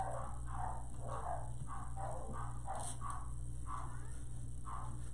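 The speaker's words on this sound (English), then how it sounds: "I hear my dogs barking." Several dogs bark in repeated short bursts, somewhat distant, over a steady low hum.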